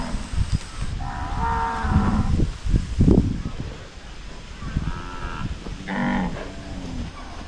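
A cow moos repeatedly in long, loud cries, calling for her separated calf on a Philippine farm, with several drawn-out bellows spaced across the clip over background noise.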